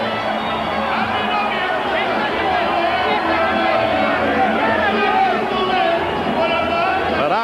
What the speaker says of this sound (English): all this out with their chant of Tito, Tito, Tito. The Vargas followers come back with volume of their own.